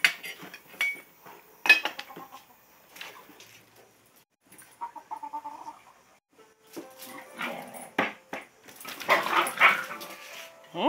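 A dog scuffles with a White Leghorn chicken in a series of irregular bursts of barking, squawking and flapping, separated by short quiet gaps and growing louder and busier toward the end.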